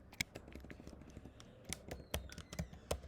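Computer keyboard keys clack in quick irregular bursts while Django code is typed, close and crisp, with short pauses between runs of keystrokes and a few harder taps.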